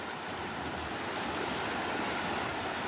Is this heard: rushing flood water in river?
yes